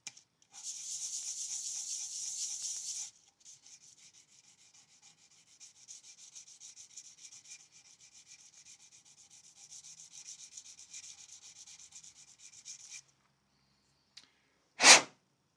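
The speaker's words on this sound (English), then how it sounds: "I'm going to put that on the sander for more work tomorrow on the bodies." Guitar body being worked on a sander with 600-grit paper: a steady, hissing rub that runs loud for a few seconds, softens, continues through the middle, then stops, followed by a brief sharp burst near the end.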